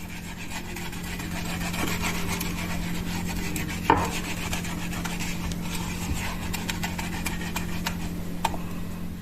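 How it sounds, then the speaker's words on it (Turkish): Butter is rubbed over the bottom of a künefe baking tray, giving a steady, close, soft scraping and smearing texture over a low constant hum, with one brief sharper knock partway through. "tava veya tepsiyemizi tereyağımızla şöyle altını güzelce yağlayalım tepsimizin altını"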